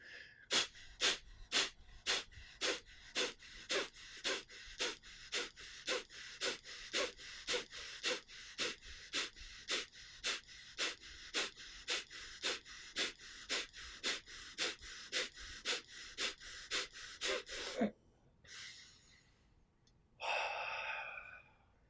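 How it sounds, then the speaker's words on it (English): Guided breathing exercise with rapid, rhythmic forced exhales through the nose, about thirty short even bursts in a steady pulse, followed by a pause and a longer, slower inhale through the nose; close and alone. "push the air out through your nose, and then you inhale through your nose too"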